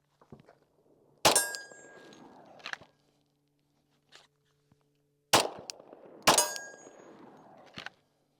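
Glock 40C pistol rounds strike steel targets during draw-and-shoot practice: several sharp metallic clangs, one pair and then a closer pair, each with a brief ringing tail, separated by quiet gaps.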